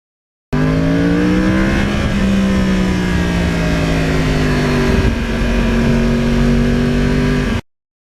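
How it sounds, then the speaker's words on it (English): A close, loud 2009 Yamaha R1 crossplane sport motorcycle engine revving and holding a steady growl, its pitch rising and falling slightly, with no talking. "I love the sound of this bike."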